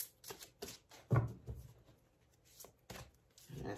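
Tarot cards are shuffled and drawn by hand in a quiet room, soft close riffling and flicking bursts with short pauses between, while someone speaks quietly.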